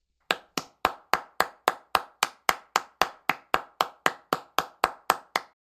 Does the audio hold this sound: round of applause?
yes